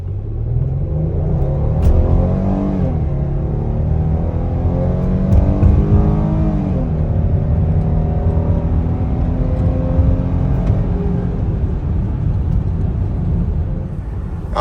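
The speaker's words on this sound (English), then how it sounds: "And you'll also hear the engine sound." A Chrysler Pacifica minivan engine pulls hard from 0 to 60 uphill, a loud, steady low rumble with rising, shifting harmonic tones through gear changes, heard close from inside the cabin without talk.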